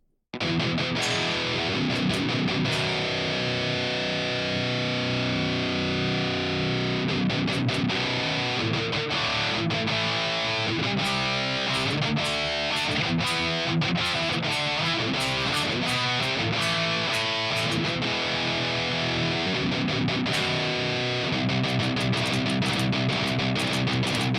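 A heavily distorted electric guitar roars through a cranked Orange Rockerverb amp with presence maxed, thick and saturated, with chords and fast riffing sustained loudly throughout.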